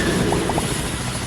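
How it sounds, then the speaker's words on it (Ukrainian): A helicopter in the Roblox video game gives a steady, constant rotor and engine hum, with a few soft knocks early on and no speech. "тут є гелікоптер."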